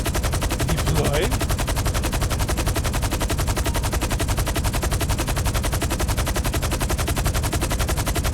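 Sustained automatic gunfire in GTA Online pounds a vehicle in a fast, perfectly even stream of rounds that never lets up, with a brief voice near the start.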